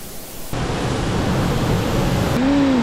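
Mountain waterfall and stream on a Jirisan trail, a loud, close broadband roar of rushing water that starts abruptly and holds steady, with a faint whistling tone near the end.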